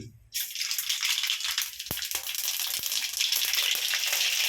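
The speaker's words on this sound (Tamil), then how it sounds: "மூன்று கண்டி எண்ணெய் ஊற்றிக்கிறேன் கடுத்து பருப்பு போடுறேன்" Lentils drop into hot oil in a pan for a spicy greens kara kuzhambu, bursting into a loud, dense sizzle that starts abruptly and crackles steadily throughout, close to the listener, with no talking.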